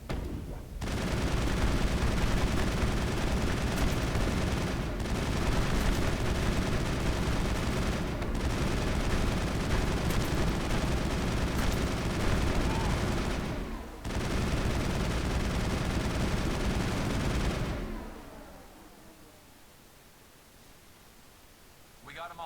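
Sustained, dense gunfire in the game Mass Effect roars as a near-continuous noisy burst for about seventeen seconds, broken by a few short pauses, then fades to quiet.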